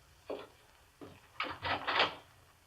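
A door opening or closing as a 1945 radio drama sound effect: a single soft thump, then a quick series of louder wooden rattles and clunks, fairly quiet and close.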